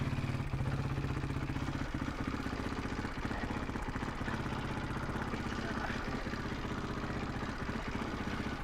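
A Honda 2WD motorcycle engine runs under load, pulling while in reverse, a steady close rattling drone with rapid regular firing pulses.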